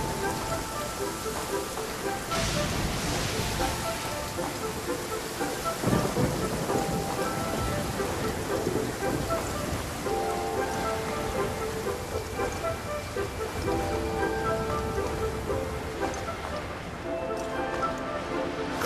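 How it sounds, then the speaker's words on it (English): Heavy in-game downpour with rolling thunder in Genshin Impact, a dense constant wash of rain on surfaces punctuated by deep rumbles, steady and loud across the whole stretch. "Taking a stroll in the middle of a downpour certainly rouses the spirit."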